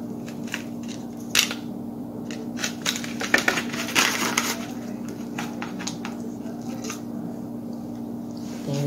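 A knife slicing a homemade pie into pieces, giving soft squishy cuts and crisp crust crunches with light clinks against the dish, close by in a quiet kitchen.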